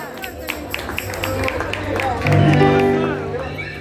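An audience at a band's live show claps and cheers for a member being introduced, with the roar and applause rising partway through alongside the announcer's talk and a sustained instrument tone.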